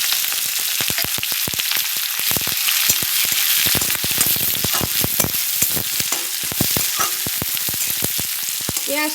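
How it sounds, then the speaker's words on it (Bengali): Chopped onion and chilli frying in oil in a pan with bay leaves and cumin, a loud, close, continuous sizzle dense with sharp crackles and pops. "পেঁয়াজটা একটু লাল লাল করে ভাজবো।"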